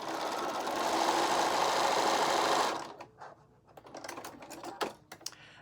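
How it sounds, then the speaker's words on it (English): A sewing machine runs steadily as it stitches along the edge of quilting fabric for a Christmas block, a close, dense whir that stops abruptly partway, followed by quieter handling clicks and taps. "we're going to stitch along that edge"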